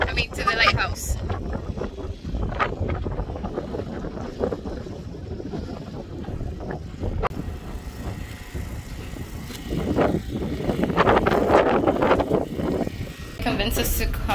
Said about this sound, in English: The wind is so crazy.